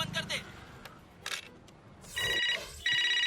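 A telephone rings in two bright, buzzing bursts near the end, loud and close, after a stretch of voices and light clatter on a comedy stage.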